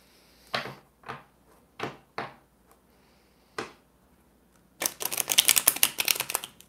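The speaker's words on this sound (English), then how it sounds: "Just giving a nice little shuffle here first before we get started." A handful of crisp, separate tarot card snaps, then a rapid, dense riffle of tarot cards flapping together for about two seconds, close up in a quiet room.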